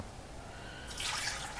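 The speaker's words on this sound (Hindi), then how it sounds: "और 1 गिलास पानी डालेंगे" A glass of water poured into a pot of mutton kunna made with desi ghee, a quiet background hiss giving way to a bright splashing rush near the end, close and brief.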